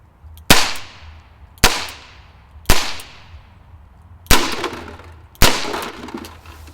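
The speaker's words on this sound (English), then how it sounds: "And we're going to take some practice shots." Five sharp shots from a revolver firing wax bullets at close-range practice targets, each a loud crack with a short decaying tail, spaced about a second apart with a longer pause before the last two.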